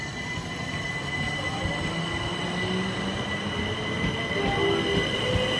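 A Class 377 electric passenger train, unit 377 435, passes through Hampden Park station on an empty stock movement. It gives a steady loud rolling roar with wheel squeal and faint tonal whines, close and continuous throughout.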